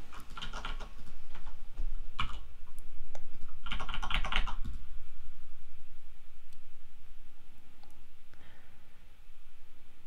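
Fingers type payment details on a computer keyboard in quick bursts of close, crisp key clicks, with short pauses between the flurries and no talking.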